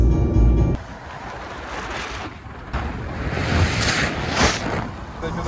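Sea waves wash steadily along a shore as a continuous broadband surf roar, with gusts of wind buffeting the microphone, after a brief louder rumble at the start.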